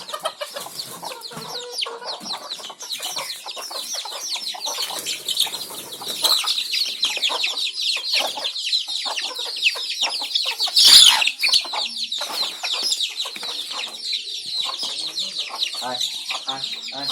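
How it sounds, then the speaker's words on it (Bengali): A flock of desi chickens clucks busily and keeps up a continuous overlapping chatter as they are let out. One louder burst of squawking and flapping comes near the middle. "এখন মুরগিগুলো আমি বের করবো"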